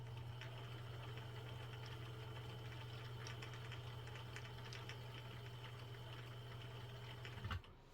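A Morse sewing machine motor hums steadily as its rubber tire drives the hand wheel, giving a constant low drone with a light mechanical whir on top and a brief clunk near the end.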